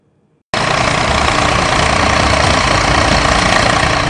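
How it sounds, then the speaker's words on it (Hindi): Heavy machinery, a JCB backhoe and a tractor, levelling a farm field in Jalaun district, Uttar Pradesh: a loud, steady engine drone with a rough knocking texture starts abruptly and runs without pause, with no talk. "जेसीबी मशीन और ट्रैक्टर से जालौन जिले के इस खेत को समतल इसलिए किया जा रहा है"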